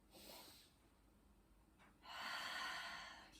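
Deep breathing during a mindful morning yoga stretch, a soft slow inhale followed by a longer, fuller exhale, close and quiet with no talk.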